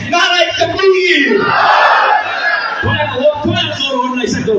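A crowd at a religious gathering roars back in answer to a chanted Nara-e-Takbeer slogan, loud massed voices swelling together over a speaker's amplified call in a reverberant space.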